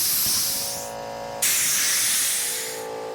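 Compressed air hisses into a motorcycle handlebar grip being fitted onto straight bars on a KTM, a loud continuous broadband rush that drops briefly, then surges back and tapers off.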